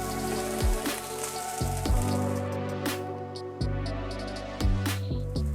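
Crab meat being stirred through fried rice in a hot pan, with a steady crackling sizzle beneath repeated scraping strokes of a utensil against the pan, close and fairly loud.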